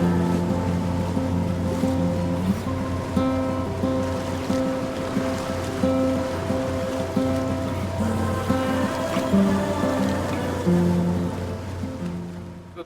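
A sailboat motoring under engine across a calm, windless Mediterranean sea, single-handed passage toward Brindisi; a steady low engine drone with tonal harmonics runs throughout, with water wash around the hull, no voices.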